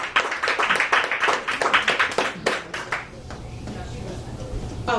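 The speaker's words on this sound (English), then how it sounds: "let's give a round of applause to the beta readers" Audience applause at a book launch, a burst of many hands clapping for about three seconds that then fades out, leaving quiet room tone.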